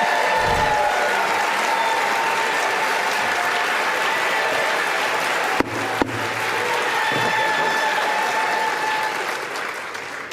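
Sustained applause from a large audience in a legislative chamber during an electoral vote count, loud and steady for about ten seconds, with a couple of sharp knocks midway and murmuring voices underneath.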